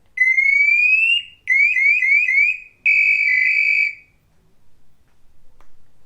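Manually triggered alarm system, held on with a yellow button: a loud rising electronic whoop, then a quick warbling burst, then a steady piercing tone. Each cuts off sharply, leaving quiet rustling afterward.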